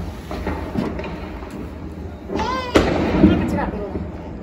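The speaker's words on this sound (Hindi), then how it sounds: "गाइस यहाँ पर पूरी आतिशबाजी चल रही है" Diwali fireworks pop and crackle in the distance, heard from a balcony, a whistling rocket rising before a sharp burst, with people talking nearby.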